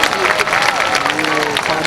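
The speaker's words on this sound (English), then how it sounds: "Clap, clap." Audience applause at a high school class graduation ceremony, loud and continuous clapping mixed with cheering voices from the crowd.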